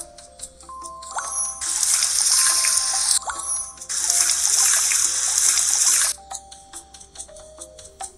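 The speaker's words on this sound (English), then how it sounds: "Put water inside the pot." Water is poured into a cooking pot for boiling noodles, two bright splashing streams of a few seconds each, close and fairly loud, separated by brief clinks of the pot.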